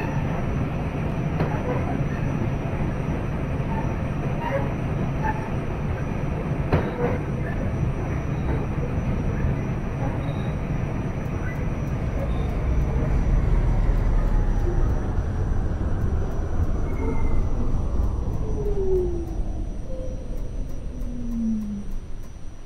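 R46 Q express subway train in the OpenBVE simulator game, a continuous loud rumble and roar of wheels on track with a rising then falling motor whine as it travels.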